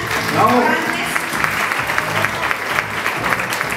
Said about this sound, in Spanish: Le damos un fuerte aplauso a García.